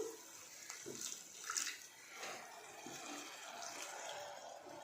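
Water is poured into a pan of Kathiyawadi gathiya curry with its cooked spices, a faint, soft, continuous splashing heard close by in a quiet kitchen.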